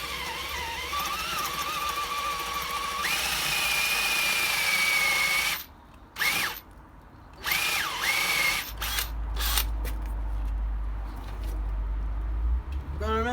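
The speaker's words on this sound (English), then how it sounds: "So, get your drill bit and drill the holes." A drill with a 22 mm spade bit bores holes in wood for a simple bird feeder, whining steadily at close range for several seconds before cutting in short stop-start bursts.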